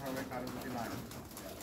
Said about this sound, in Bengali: আপনারা দেখছেন এই যে রানা ভাইয়ের কবুতরের খামার এবং কবুতর পালন